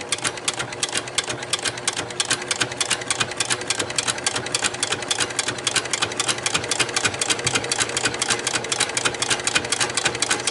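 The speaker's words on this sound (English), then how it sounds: "So all you do is sew, and I generally go around twice." A vintage Greist buttonhole attachment on a sewing machine stitches around a buttonhole, a steady, loud, rapid mechanical chatter that runs without a break, with no talking.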